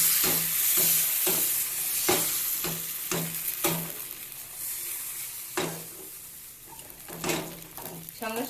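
Rice flour batter stirred and swirled in a pan for sarucakli pitha, repeated scraping strokes at a steady rhythm over a soft sizzle, close by, with a few quiet spoken words.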